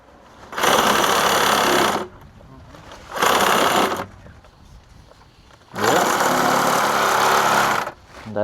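Three bursts of harsh, buzzing power-saw cutting through HDPE plastic pipe, each lasting a second or two, with brief pauses between and faint voices in the gaps.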